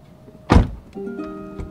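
A Rolls-Royce rear-hinged suicide door swings shut with one solid thunk, followed by a soft mechanical hum and faint clicks as it settles, close and clear with no talk.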